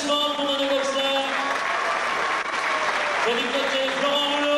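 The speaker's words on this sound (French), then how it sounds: "J'ai vos applaudissements pour nos deux boxeurs." An audience at a full-contact kickboxing exhibition applauds the two boxers, a steady wash of clapping that holds for several seconds while an announcer's voice carries over it.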